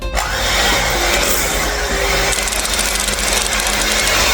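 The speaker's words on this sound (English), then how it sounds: "Then we use a beater and mix it until it is thoroughly soft." An electric beater whirs steadily as it mixes cream cheese in a bowl, a continuous loud motor drone with no pauses.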